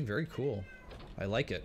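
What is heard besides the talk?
cat meowing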